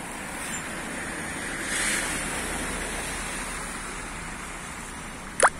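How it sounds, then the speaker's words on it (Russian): Waves slosh through deep floodwater on a flooded street in a city centre, a steady washing rush with wind noise across the microphone, ending in a brief sharp knock. "Вот такие волны."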